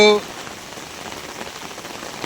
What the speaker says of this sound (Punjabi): ਪਿਛਲੇ ਕਈ ਘੰਟਿਆਂ ਤੋਂ ਲਗਾਤਾਰ ਬਰਸਾਤ ਪੈ ਰਹੀ ਹੈ